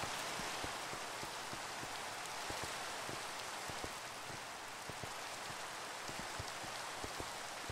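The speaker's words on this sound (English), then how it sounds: "Ah, rain." Steady rain falling continuously, a dense hiss with scattered droplet taps, even and unbroken throughout.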